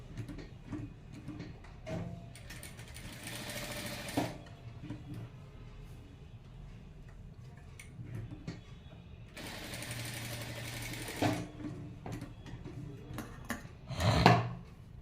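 Sewing machine double-stitching the ends of a fabric strip to join them, running in two distinct buzzing bursts separated by quieter handling clicks and taps, close by with no talk.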